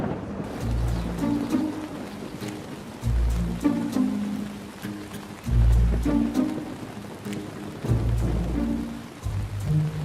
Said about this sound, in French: Vous voulez sérieusement qu'on s'entraîne sous la pluie?